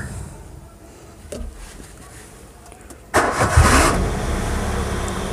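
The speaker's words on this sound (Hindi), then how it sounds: "गाड़ी स्टार्ट हो गई है।" A Maruti Suzuki Wagon R engine cranks and catches about three seconds in, jumping from a quiet interior to a loud, steady idle that stays running close by.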